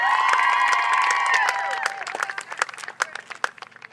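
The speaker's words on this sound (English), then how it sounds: "Ladies and gentlemen, one last round of applause for the Wells College class of 2014." A crowd at a women's lacrosse senior day claps and cheers for the graduating class, with loud whoops and shouts at first, then thinning into scattered individual claps.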